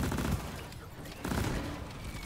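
Explosive chemical rounds firing in the game Deep Rock Galactic: a dense, continuous roar of rapid gunfire and bursting blasts, loud and close, with two heavier surges.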